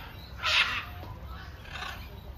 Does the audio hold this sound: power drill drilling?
no